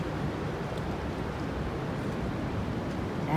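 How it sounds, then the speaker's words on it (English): Gusty spring wind blows steadily across the microphone on a cold April day with snow flurries, a continuous broadband rush that swells slightly near the end, with no voices. "That's the wind."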